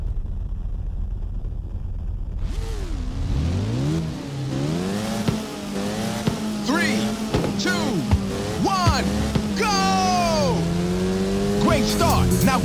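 Race cars in the Ridge Racer 2 video game roar off the line at Ocean Bay, engines rising and falling through gear shifts while repeated tire squeals streak over the din, loud and continuous.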